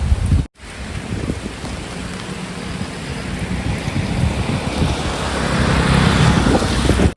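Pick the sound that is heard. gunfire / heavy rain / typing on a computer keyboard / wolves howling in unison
heavy rain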